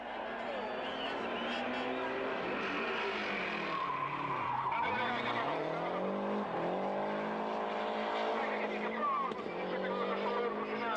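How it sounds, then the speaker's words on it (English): Ford and Lancia rally cars roar away at the start of a stage at the 1992 Rallye de Portugal, engines revving with rising and falling pitch and tire noise, under a commentator's voice. "First away are Delecour in the Ford and Aghini in the Lancia"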